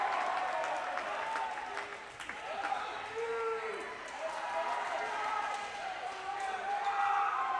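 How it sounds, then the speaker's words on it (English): Steady applause and cheering from a home crowd at a high school volleyball match between Mountain View and Los Altos, filling the gym continuously as a player steps up to serve, with indistinct voices mixed into the din. "Rogers comes in to serve, getting lots of support from the crowd."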